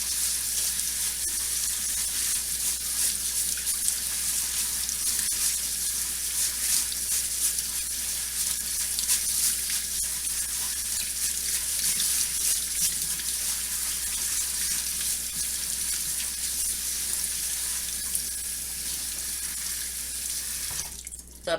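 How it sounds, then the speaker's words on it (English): Tap water runs in a sink over food being rinsed and swished by hand, a steady close rush of water that holds for about twenty seconds before stopping, with no talking. "I'm just going to run water on it until the water comes out clean"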